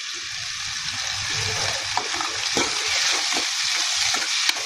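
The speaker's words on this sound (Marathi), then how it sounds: "थोडीशी कसुरी मेथी बारीक करून टाकून घ्या. अशी तळून टाकू शकता" Potatoes sizzle in a pan as crushed kasuri methi goes in for jeera aloo cooked without water, a steady bright frying hiss with scraping stirs and a few sharp clicks of a spoon against the pan.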